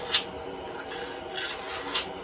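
Sandpaper rubbed by fingertip along the inner edges of a palletwood wedding ring, soft scratchy rasping with a couple of sharper brief strokes, close and quiet with no talk.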